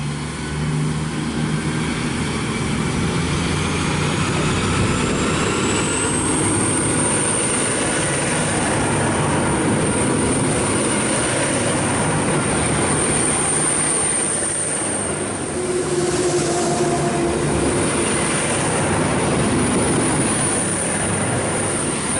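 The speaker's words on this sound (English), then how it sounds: "They've got pretty good acceleration, the Velocities, considering they're running on diesel." A VL class diesel locomotive pulls a train away from the platform at Waurn Ponds, Victoria, with a steady engine drone, a rising high whine and rolling wheel noise, sustained and fairly loud throughout.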